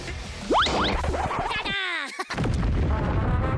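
In a Squid Game-themed video game, a bomb explodes with a loud, close boom amid swooping, cartoonish whistling effects; game sounds continue after the blast.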